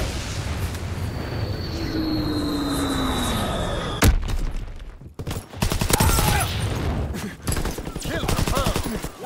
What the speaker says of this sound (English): Dropping Blitz bomb.